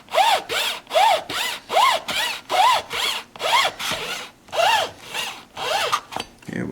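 A saw blade drawn back and forth through a block of paraffin wax on a 12-string custom dreadnought guitar build, making about a dozen steady rhythmic rasping strokes up close, alone without speech.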